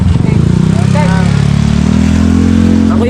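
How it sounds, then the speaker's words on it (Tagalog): A group of six motorcycles rides together, engines droning loud and close in a continuous low rumble with faint rising revs, under brief chatter. "Anim na motor kami lahat."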